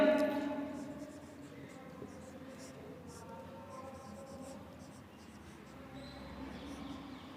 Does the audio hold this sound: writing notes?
yes